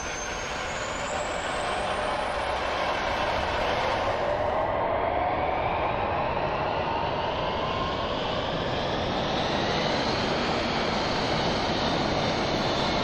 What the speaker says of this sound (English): Now the engine comes on board.